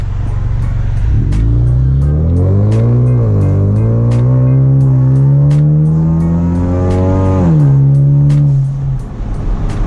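A Ford Mustang EcoBoost fitted with an Airaid cold air intake pulls hard through a full acceleration run, the engine note rising steadily through the revs with a loud, close, smooth tone before easing off near the end, with no voices over it.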